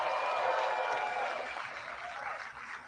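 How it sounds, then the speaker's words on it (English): A crowd at a Chicago mayoral campaign event gives the other candidates a round of applause: a dense, sustained patter of many hands that stays fairly loud and eases slightly toward the end. "Let's acknowledge and give all the other candidates a round of applause."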